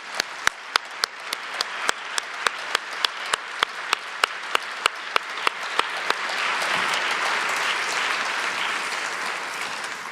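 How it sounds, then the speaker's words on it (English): An audience at the EMYA 2025 museum awards ceremony first claps in a slow, regular rhythm of distinct beats. After about six seconds the beats dissolve into a broad, continuous wash of applause. "So I would invite you for a round of applause for all of you and for the EMYA jury."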